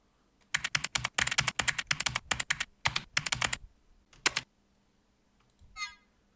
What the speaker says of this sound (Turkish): Onun yerine şöyle iki tane mekanik klavye sesi var.